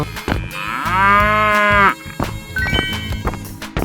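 A cow moo from a 3D animal slide video game, one loud sustained lowing call lasting about a second over bouncy game music with percussive hits.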